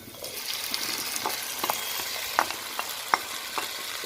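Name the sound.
tomatoes added to frying onions and stirred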